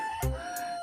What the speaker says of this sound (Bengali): কিন্তু মোরগ ডাকছে।